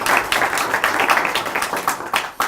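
Audience applause for a speaker at a talk on women in the Spanish Civil War: close, loud clapping from a small crowd, with uneven bursts and a few distinct individual claps near the end.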